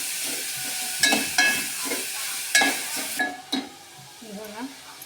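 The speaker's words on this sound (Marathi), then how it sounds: "हे बघा, जरा परतून घेऊया आपण" Spring onion greens sautéing in a pan over moderate heat make a soft background sizzle, punctuated by several sharp scrapes and clatters of the spatula that then settle into gentler stirring, close by with no talking.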